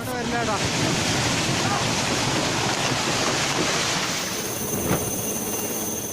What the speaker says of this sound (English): Escaping surging water that has swallowed everything in its path.